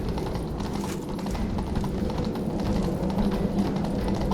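Rapid, rhythmic hoofbeats of a galloping horse in the video game The Witcher 3: Wild Hunt pound steadily throughout, with no talking.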